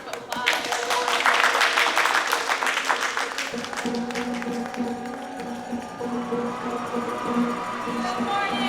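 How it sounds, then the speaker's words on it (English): Audience applause fills a morning running-program event in Philadelphia, a loud, dense burst of many hands clapping that swells and then tapers, with voices underneath as the crowd settles. "Big round of applause."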